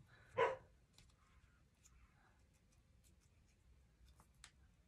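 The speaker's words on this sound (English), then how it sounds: "Sorry about that, my dogs, got 2 of them." Pet dogs indoors give a single sharp bark, then quiet with faint ticking and small clicks in a calm room.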